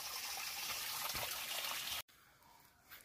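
Rushing water from the Ashir Kumari waterfall, flowing low in the winter season, gives a steady, loud broadband wash for about two seconds before cutting abruptly to near quiet.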